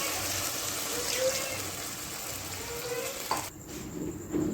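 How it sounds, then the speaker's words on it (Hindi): Water is poured into keema cooking with bell pepper, setting off a loud steady sizzle with a brief splash near the end, close up, with no talking. "अब हम इसमें थोड़ा सा पानी डालेंगे"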